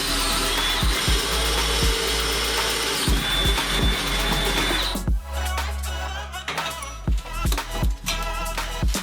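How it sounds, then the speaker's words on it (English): A power drill whirs in short bursts, winding up and stopping repeatedly, with clicks and handling noises between runs. "I gotta drill a couple holes."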